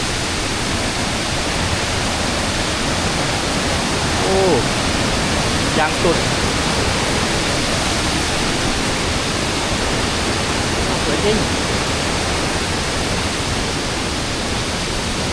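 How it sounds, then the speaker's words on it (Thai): The Yolapa waterfall in Oudomxay, Laos, roars as a loud, dense and unbroken wash of falling water, while a man briefly exclaims over it. "จากทางเข้าเรามาถึงกันที่ น้ำตกยอราพาแล้วทุกคนโว้"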